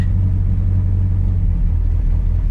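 Chevrolet S10 swapped with a turbo boat engine and six-speed, rolling under load with the clutch out and no throttle, a low, steady idling rumble close by and unbroken.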